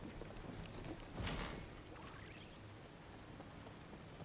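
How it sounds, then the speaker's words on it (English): Rain falls in the cozy video game Infinity Nikki, a soft, steady patter of drops with a brief louder splash of water partway through, no talking over it. "Standing in the rain."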